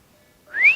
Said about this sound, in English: That was a crappy whistle